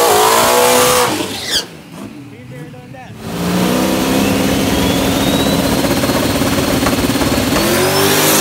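A 1800hp turbo Mustang drag car on a shakedown run blasts off in a loud, raw roar, dips briefly, then climbs into a sustained high-revving scream with a rising whine.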